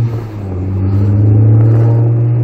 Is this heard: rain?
no